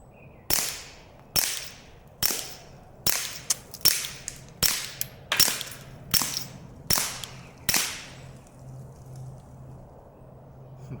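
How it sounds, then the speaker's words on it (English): A suppressed .22 Buck Mark pistol fires Aguila subsonic rounds, giving ten sharp, close cracks at a steady pace, each with a short fading tail, followed by quiet. "This is a subsonic, and we're just going to see how quiet it is and if it will function the buck mark."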